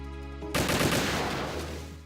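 Metal Gear Solid 2 gunfire during the escort section: an abrupt loud burst of rapid shots that rattles on with a dense, slowly fading roar for over a second, heard without talking.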